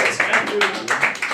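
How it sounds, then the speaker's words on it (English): Brief applause for speakers at a career talk, a short burst of close hand clapping from a small audience, with a voice speaking briefly over it. "Another round of applause for our speakers"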